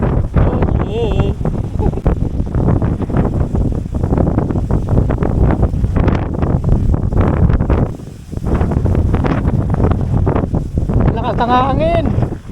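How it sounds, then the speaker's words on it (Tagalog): Strong wind buffets the microphone on a breakfast ride aboard a Gixxer 155fi motorcycle, a loud, continuous roaring rush with brief lulls as a rider talks. "Lakas ng hangin."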